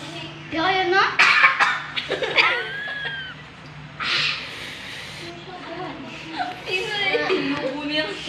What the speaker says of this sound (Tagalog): Inuubo niya.